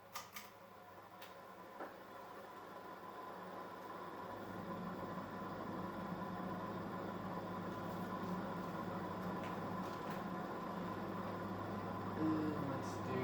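Casablanca Delta II ceiling fan whirring at high speed, a steady close hum with bearing noise that grows slightly louder over the first few seconds, with occasional light clicks.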